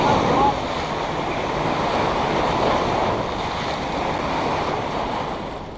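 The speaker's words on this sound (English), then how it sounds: "Oh, tsunami! Yeah, you're gonna get soaked, Mark." A big ocean wave rolls in on a shore while fishing rods are set up, giving a loud, broad wash of surf and wind noise that holds steady the whole time, close and dominant.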